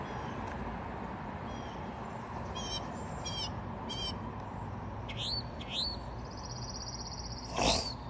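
Several sharp, rising alarm calls from a bird perched overhead, coming in short bursts with a louder final cry, over a steady outdoor background noise.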